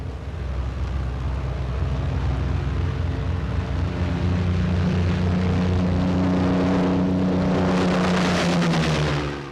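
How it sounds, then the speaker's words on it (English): A World War II-era TBF torpedo bomber takes off from an aircraft carrier under propeller thrust alone, its engine roar loud and steady, with a swelling, brighter rush late on as the plane pulls away. "A TBF takes off, relying solely on propeller thrust."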